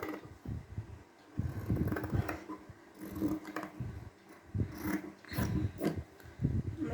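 Scissors cutting a small curved round neckline into churidar fabric: close, irregular snipping and rasping cuts in uneven bursts with brief pauses, fairly quiet with no voice.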